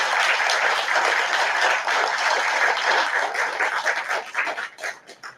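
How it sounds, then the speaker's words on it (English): A room full of people at a school board meeting breaks into a steady round of applause, dense and sustained clapping throughout that thins out and fades toward the end, with no talking over it. "we'll just give a round of applause"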